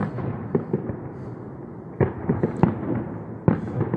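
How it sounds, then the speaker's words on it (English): Air bomb fireworks explode on a Bonfire Night, 5 November, giving a string of sharp cracking bangs at varying distances over a continuous crackling hiss of other fireworks, with no voices. "that was definitely an air bomb"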